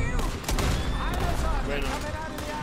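Red Dead Redemption 2 shootout, a dense stretch of overlapping gunshots and rumbling impacts, loud and continuous, with a voice speaking over the firing.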